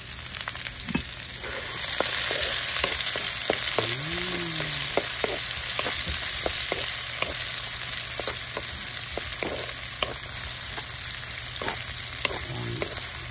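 Sweet and sour fish sauce frying and sizzling in a pan while being stirred, a steady close hiss broken by scraping utensil strokes, with no talking.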